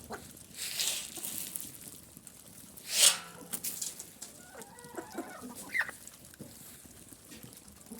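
Chickens cluck and squawk nearby, with one sharp loud call in the middle and scattered softer clucks around it; one hen is sick with diarrhea.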